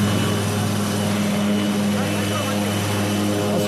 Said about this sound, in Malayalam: തിരികെ കൽപ്പറ്റയിലേക്ക് എത്തിയിരിക്കുകയാണ് കോപ്റ്റർ